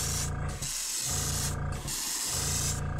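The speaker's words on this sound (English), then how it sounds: "I'd always rather have it turned down and be able to just control a little more spray than to have it" An airbrush spraying paint onto a fishing lure: a close, steady hiss of air and paint in three long bursts separated by brief pauses, with no talking.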